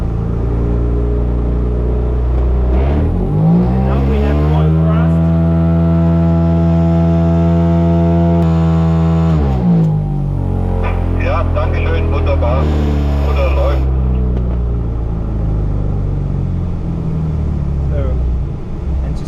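Electric sustainer engine of an AS33 Es 18 m glider hums up in a rising whine, holds a steady loud drone, winds down, then spins up again; close-up inside the cockpit, with someone talking over it.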